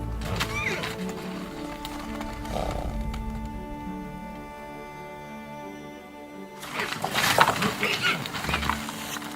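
Yakutian horses snort and shift about close by, with a whinny and some rustling; a loud burst of movement and breathing follows after a quieter stretch.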